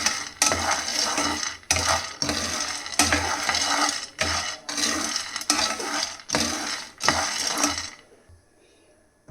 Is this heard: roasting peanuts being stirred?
yes